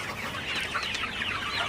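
A flock of sonali or broiler chickens in a poultry shed on a hot, humid day, clucking and murmuring together in a continuous, moderately close chorus.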